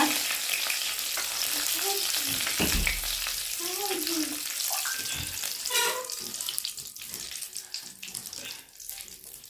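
Curry leaves sizzling in a hot frying pan, a steady hiss with bursts of crackle and a few clinks and scrapes, close and moderately loud, no talk.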